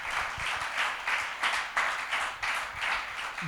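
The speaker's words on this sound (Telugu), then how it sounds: "చప్పట్లు కొట్టి దేవుని నామాన్ని ఘనపరచండి." A church congregation claps their hands in praise during a sermon on fasting prayer, a loud, steady run of many overlapping claps with periodic stronger bursts and no talk.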